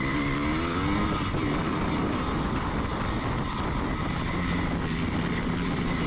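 An old Honda XR200 dirt bike cruises around a motocross track, its engine a steady, fairly close drone with slight rises and dips in revs throughout.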